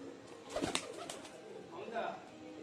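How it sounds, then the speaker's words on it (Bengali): Giribaz pigeons in a home loft give a few soft, close coos in short bursts, with a faint murmur in the background. "অসাধারণ কিন্তু কালেকশন, দাদার বাড়ির পায়রাগুলোর অসাধারণ কিন্তু কালেকশন সব"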